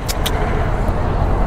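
Busy road traffic on a hot day, heard from a Hero Xtreme 125R motorcycle, with a loud, steady rumble of nearby cars and vehicles and a couple of short high squeaks near the start.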